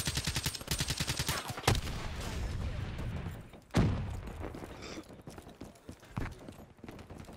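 Gunshots in Black Ops 3 multiplayer on Xbox: rapid repeated shots at the start, then sharp loud bangs with scattered lighter impacts and game noise in between.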